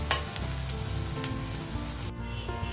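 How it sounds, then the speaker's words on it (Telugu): Onions fry in hot oil for a chicken kurma, a steady, close sizzle with faint crackles and a few brief spatters or stirring clicks, heard alone without any talking. "ఆనియన్స్ ఫ్రై అవుతున్నాయండి, దీన్ని ఇట్ని బ్రౌన్ అయ్యే వరకు ఫ్రై చేయాలి"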